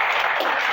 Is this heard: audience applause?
yes